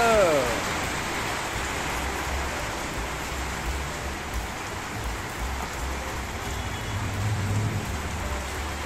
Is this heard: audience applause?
no